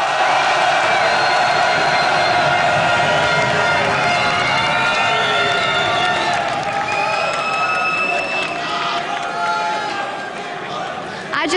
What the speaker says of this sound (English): I just can't get enough of this crowd.